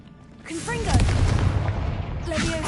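Confringo fire-blast spell in Hogwarts Legacy on PS5 Pro, a booming burst that swells in after a short lead-in and roars on for over a second, with a fresh crackle of blasts near the end.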